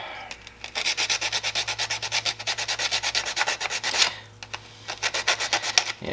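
Hand sanding with 100 grit sandpaper on a motorcycle side cover from a 2004 Honda Rebel CMX250C, rapid rhythmic back-and-forth scratching strokes, close and fairly loud, briefly pausing near the middle.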